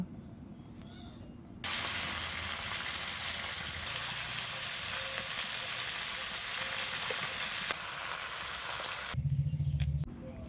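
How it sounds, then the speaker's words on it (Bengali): Two fish heads fry in hot oil in a wok, a loud, steady crackling sizzle that starts abruptly after a quiet opening, runs continuously for several seconds, then drops away. "এখন ওই তেলেই মাছের মাথা দুটো ভেজে নেব"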